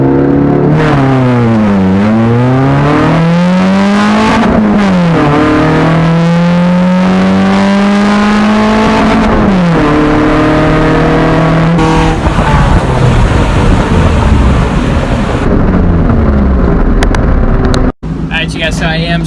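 A Honda Civic EG project track car accelerates hard through a 0-60 run, its engine climbing loud and close through several rising sweeps with quick shift breaks between gears.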